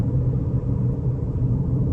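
Steady low engine rumble from a 2026 Chevy Equinox Activ FWD on a test drive, held under moderate partial throttle; a continuous, even drone with no talk.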